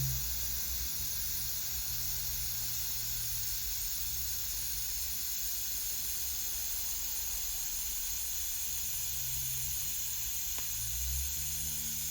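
TIG welding on stainless steel gives a steady, continuous hiss that holds evenly for the whole stretch, with a low hum underneath and no talking.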